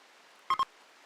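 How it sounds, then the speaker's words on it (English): Two quick electronic beeps in close succession, a short alert in the video game RimWorld, sounding clearly over a quiet background. "more beeping incoming"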